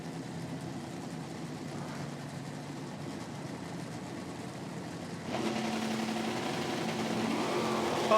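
A nitro drag racing car in an IHRA Outlaw Nitro Series pro am event at Hebron, Ohio, droning steadily at a distance, then growing louder as it launches down the strip, with no talk over it.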